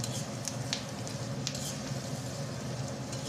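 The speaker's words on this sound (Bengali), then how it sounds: "এই পেঁয়াজ মরিচ ভাজার ভিতরে এবার আমি পুঁটি মাছগুলো দিয়ে দেবো" Small puti fish frying in a pan with onion and green chili, a dense steady sizzle close by, punctuated by a few crisp spatters and light stirring scrapes.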